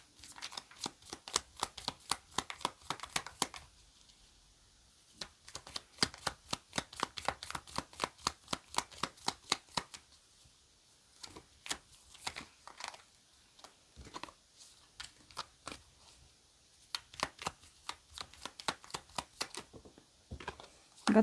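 Tarot message cards being shuffled by hand in repeated bursts of crisp riffling and flicking, close and fairly quiet, with short pauses between rounds of shuffling.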